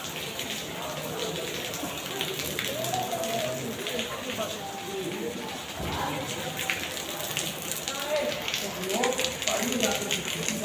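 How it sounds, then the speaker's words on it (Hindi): Heavy rain pours steadily at Zulfi waterfall in Ayubia near Nathia Gali, a dense, continuous hiss of drops striking surfaces that fills the whole stretch at an even, loud level. "बारिश हो रही है फुल तेज"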